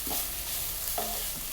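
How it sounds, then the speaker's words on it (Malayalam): A spoon stirs nithya vazhuthana thoran in a pan, giving soft scraping sweeps with a light sizzle beneath, quiet and close with no talking. "ഒന്ന് ഇളക്കി കൂട്ടി വെച്ച് കൊടുക്കണം"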